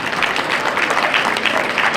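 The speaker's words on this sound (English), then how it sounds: "give our grand champion board lineup a round of applause" Loud, dense applause from a crowd at a youth fair market goat show, cheering the grand champion lineup of does as a steady wash of clapping throughout.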